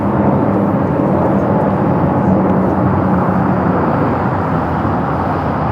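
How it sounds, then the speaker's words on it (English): An A320neo takes off from LAX for Guadalajara with a loud, steady jet roar. The broad rumble and hiss stay strong and even throughout, with no voices. "1715 taking off to Guadalajara on the A320neo."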